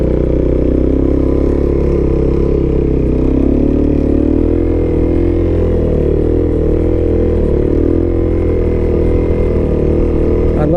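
Suzuki DRZ dirt bike engine pulling through a wheelie, a loud, close, continuous throaty drone with slight shifts in pitch, heard over wind rumble.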